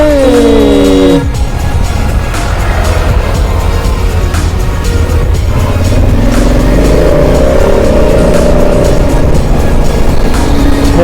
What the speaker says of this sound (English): heavy traffic